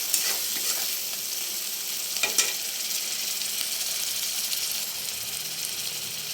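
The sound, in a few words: stirring potatoes with Kashmiri chilli, cumin, garam masala in pan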